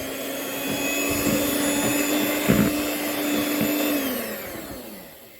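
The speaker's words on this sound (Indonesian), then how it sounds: "Mixer sebentar dengan kecepatan paling rendah saja" An electric mixer runs at its lowest speed through cake batter for black glutinous rice steamed sponge, giving a steady whirring hum with light knocks of the beaters against the bowl before it winds down.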